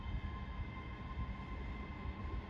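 Passenger train service from Glasgow Central to Edinburgh Waverley departing Haymarket station: a low, steady rumble of wheels and engine at moderate distance, with no talk.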